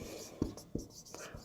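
A pen scratches on paper during a handwritten maths solution, with a few short faint strokes up close and a soft voice under them.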